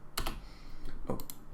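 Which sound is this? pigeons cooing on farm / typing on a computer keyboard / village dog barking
typing on a computer keyboard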